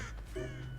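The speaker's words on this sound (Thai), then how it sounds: "เหมือนอีกาจะบิน" A single crow caws once, loud and close, in the mobile game Dead by Daylight Mobile.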